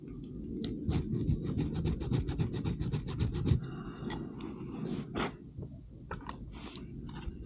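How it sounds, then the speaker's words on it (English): Hand file rasping in regular strokes against the steel thumb safety of a 1911 pistol clamped in a fitting block, close and steady for several seconds, then scattered lighter scrapes and taps. "So where I'm filing is this part of the thumb safety engages the sear"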